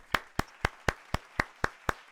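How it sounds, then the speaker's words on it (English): Nine crisp, evenly spaced hand claps ring out at a steady beat in a podcast recording, close and dry with quiet gaps between them and no talking. "Round of applause, everybody."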